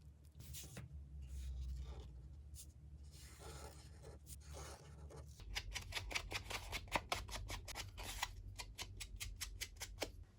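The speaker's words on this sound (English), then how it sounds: "Then let's fold and cut the elements." Paper elements for a pop-up art journal being folded and cut with scissors, a series of close, crisp snips and rustles that quicken into a rapid run of regular cuts.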